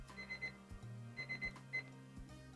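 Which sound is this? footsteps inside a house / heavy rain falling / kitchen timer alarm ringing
kitchen timer alarm ringing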